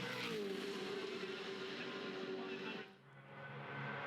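A V8 Supercar at full throttle on a race circuit, a loud, sustained engine roar heard from on board that dips briefly near the end before building again, with no talk.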